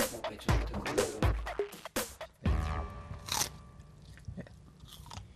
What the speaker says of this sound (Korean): 그리곤 배추를 이용해 씹는 소리를 내보는데